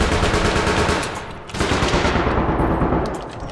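Loud, rapid automatic gunfire from the APB: Reloaded video game hammers away in near-continuous bursts, dips briefly and then resumes at full intensity.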